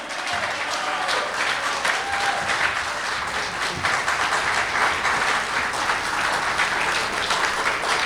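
A conference audience gives sustained applause welcoming Parti Québécois leader Paul St-Pierre Plamondon. Dense, even clapping fills the whole stretch with a faint murmur of voices underneath.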